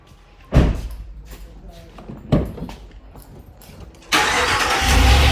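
Two heavy thuds like doors shutting, then a RAM 1500 pickup's V8 engine cranks and roars to life, rumbling loudly and close.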